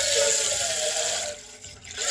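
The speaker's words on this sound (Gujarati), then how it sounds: "આ તપેલીમાં પહેલાં ભરી લઈશું પાણી" Hot water runs from a bathroom tap into a cooking pot for making Maggi noodles, a steady close hiss and splash that dips briefly near the end before resuming.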